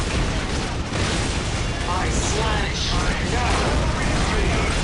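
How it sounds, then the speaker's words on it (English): Grenade blast in a Dawn of War Unification battle between Emperor's Children and Demon Hunters, one heavy boom buried in dense, continuous game noise of gunfire and clashing units, loud throughout. "another grenade goes off"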